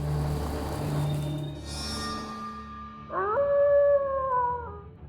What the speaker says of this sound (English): A pack of wolves.